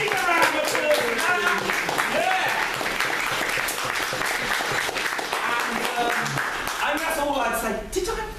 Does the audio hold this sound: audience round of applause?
yes